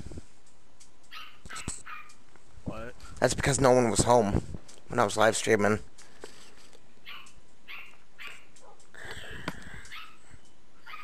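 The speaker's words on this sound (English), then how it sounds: "If you can hear a dog in the background, it's my dog." A pet dog barks and yips in a home in the middle of the clip, a run of sharp, strained barks and whines heard behind a person talking while playing Minecraft on PlayStation 4.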